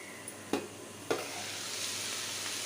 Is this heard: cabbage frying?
yes